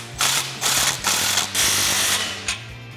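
A ratchet clicks in quick, close bursts while an exhaust tip clamp is tightened on a 2021-2022 Ford Bronco with an MRT axle-back exhaust, with short pauses between strokes.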